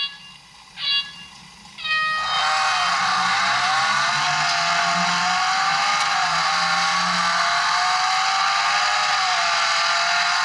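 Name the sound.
car engine racing in video game Real Racing on phone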